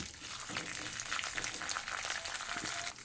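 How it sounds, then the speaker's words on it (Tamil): Toor dal and dried red chillies fry in hot ghee in a pan, giving a steady, close crackling sizzle with busy bright popping throughout, and no voices. "நல்லா இதை கொஞ்சம் பொரிய விடணும்"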